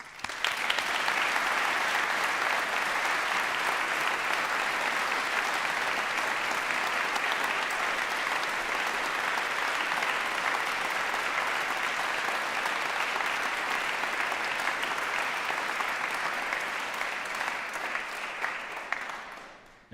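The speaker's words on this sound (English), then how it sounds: "we need another round of applause for our honorands, our fellows, our associates, and of course, our amazing graduates" Sustained, full applause fills a hall for honorands and graduates at a university award congregation, an even, dense wash of clapping that holds steady before tapering off at the end.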